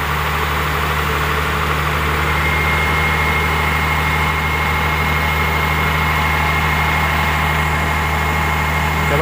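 Komatsu WA180 wheel loader diesel engine, weak and struggling, running with a steady low drone that holds continuous and loud for the whole stretch, without clear rises in revs.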